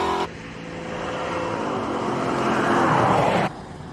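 A racing car climbs the hill at the Simola Hillclimb, its engine a loud, sustained roar that swells over about three seconds and then cuts off abruptly.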